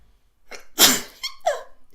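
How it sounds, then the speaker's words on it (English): A single loud human sneeze, preceded by a quick inhale and followed by a short breathy exhale and small sounds, close to the microphone with no talking. "I think I'm going to sneeze."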